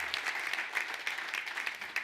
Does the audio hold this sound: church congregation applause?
yes